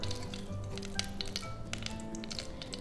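Hot oil sizzles steadily in a frying pan ready for a blood porridge mixture, with a constant crackling hiss and scattered small pops close by.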